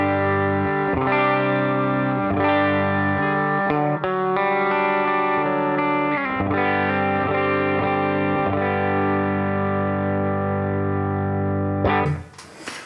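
Electric guitar on the bridge pickup played straight through an amp with a basic clean tone, ringing sustained chords that change every second or so and cut off abruptly at the end.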